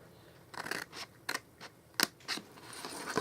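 Scissors snip through card in a handful of short, crisp cuts, close and fairly quiet, with brief gaps between each snip.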